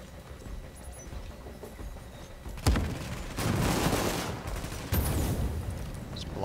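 Blind gunfire in The Division video game, a sudden loud burst followed by sustained rattling volleys and a second sharp burst, echoing over a quieter background.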